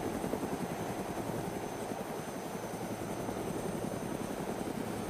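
Helicopter rotor thumps and turbine whine fill the scene in ARMA 2 DayZ, a continuous close rhythmic chop holding steady and loud with no voices over it.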